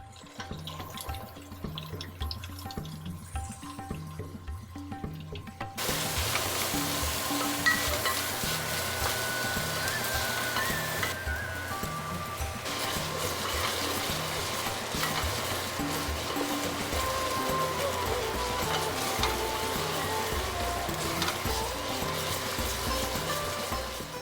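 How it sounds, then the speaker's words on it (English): Onions are added to hot oil already holding cumin seeds for palak paneer, and a dense, continuous frying sizzle swells up and holds steady at close range, with no voices. "Now the onions. Cook them until they are soft and translucent."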